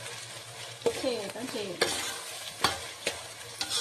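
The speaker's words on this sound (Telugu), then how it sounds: "టమాటాలు కొంచెం మగ్గిదాకా నెమ్మదిగా కలుపుకొని" Tomatoes stirred in a pan for chicken dum biryani, a few distinct scraping stirs over a low hum with a soft sizzle, close and moderately loud.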